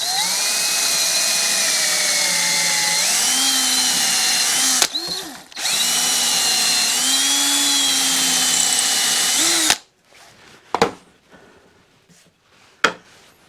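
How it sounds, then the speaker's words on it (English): A power drill boring pilot holes in ash wood for a planter, two long whining runs with pitch that bends under load, a brief gap between them, then quiet clicks and handling noises after the motor stops. "Okay, again, drilling pilot holes."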